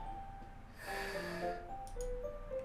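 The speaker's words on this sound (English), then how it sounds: "It sounds like breathing." Heavy breathing with a sharp, snort-like inhale in the Doki Doki Literature Club video game, a single raspy intake of breath sitting over a low ambient hum, moderately close and fairly quiet.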